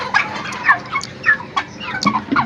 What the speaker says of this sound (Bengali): এই দেখুন, আমি একটা মুরগিকে সরাচ্ছি তো